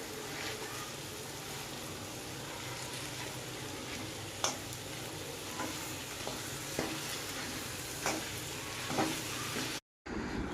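A potato mixture for vada pav, seasoned with coriander-cumin powder, sizzles in a pan while being stirred, giving a steady frying hiss broken by occasional scraping knocks, then a brief silence near the end.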